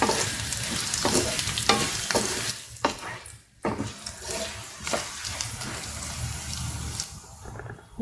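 A spoon scrapes and stirs pre-boiled, fried baby potatoes in a hot pan, with loud sizzling and repeated clattering strokes that pause briefly midway.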